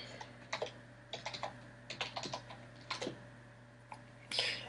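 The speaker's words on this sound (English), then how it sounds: "Let me type my password in." Keys on a computer keyboard clatter in short irregular bursts of taps while a password is typed, fairly faint and close, ending with a slightly louder keystroke cluster.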